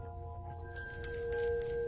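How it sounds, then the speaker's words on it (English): Bells ringing from somewhere nearby in a quiet room on Christmas Eve, taken for Santa's reindeer sleigh; a bright, steady jingling shimmer keeps going for about two seconds over a low, constant hum. "he heard the sound of bells ringing from somewhere."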